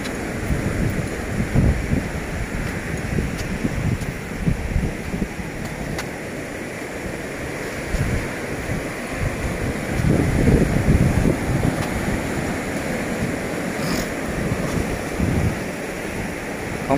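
Ocean surf rolls steadily onto a wide, rocky beach at North Lang Van, a continuous loud wash of breaking waves mixed with gusty wind buffeting the microphone, with no voices.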